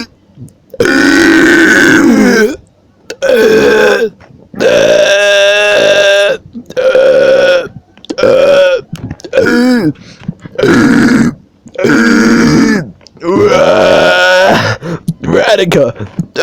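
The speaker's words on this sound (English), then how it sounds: "burp off" A burping contest: a long series of loud, close belches, many drawn out and groaning, separated by short gaps, with voices grunting and moaning between them.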